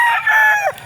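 A broodcock rooster lets out one loud, close crow that holds briefly and then breaks off, with nothing else around it.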